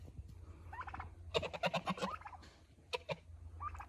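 A turkey gobbles in a rapid rattling burst, then gives a shorter gobble, with softer calls before and after; fairly close and clear.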